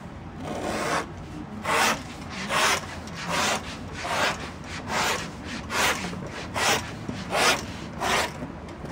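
A 1.5 inch leather belt strip is cut in an old-time leather shop, giving a close run of about a dozen rhythmic rasping strokes with short pauses between them, and no voices.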